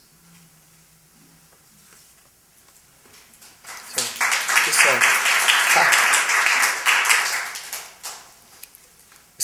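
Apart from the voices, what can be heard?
audience clapping after a poem reading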